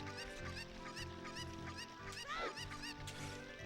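A cucco chicken from the video game Zelda Ocarina of Time clucks in a string of short, rising squawks over steady in-game background music, with one longer squawk near the end.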